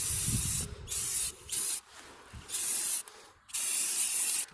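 Several bursts of aerosol spray paint laid on thickly over a yard faucet pipe joint, each a loud, steady hiss lasting about a second, separated by short pauses.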